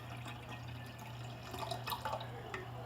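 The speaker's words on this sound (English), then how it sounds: "I'm going to add 1 cup of water to this" A cup of water is poured into homemade tamarind juice made from fresh tamarind pods, giving faint, fairly steady trickling and splashing that picks up a little in the middle over a low background hum.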